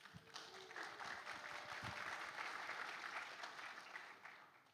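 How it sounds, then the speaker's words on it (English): An audience at a forum applauds steadily for about five seconds, a dense wash of clapping that swells quickly and holds before tapering slightly at the end. "give applause for this."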